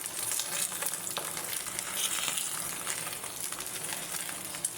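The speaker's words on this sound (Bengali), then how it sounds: "বড় ফ্রাই প্যান তো, আমি একসাথে 3টা দিয়ে দিব," Steady, loud sizzling of three eggs frying in a large hot frying pan, continuous crackle throughout with no talking.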